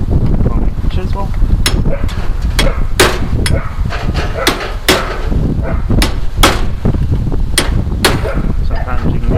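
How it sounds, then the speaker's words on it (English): A hammer strikes a homemade chisel driven against a stubborn universal joint, giving a series of loud, sharp metallic cracks at irregular intervals over steady background noise. "There we go with the homemade chisel."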